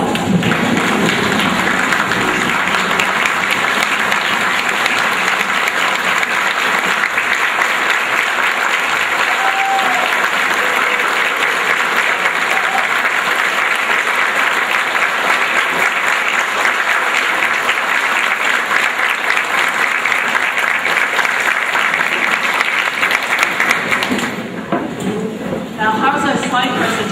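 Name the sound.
banquet audience giving a rousing round of applause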